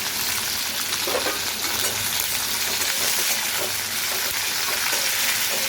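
Pointed gourd (kakrol) frying in hot oil with green chillies in a home kitchen, a steady, close hiss of sizzling running throughout with faint stirring, no talk.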